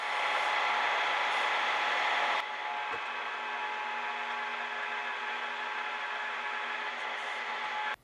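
A power drill whines steadily at close range, drilling holes in knife scales, with a louder stretch at first that settles into a slightly lower, continuous hum before cutting off.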